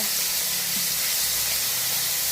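Ground taro leaf paste with garlic and green chilli frying in a pan, giving a steady, close, loud sizzling hiss that holds evenly throughout.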